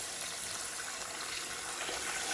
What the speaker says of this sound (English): Put a load of water in.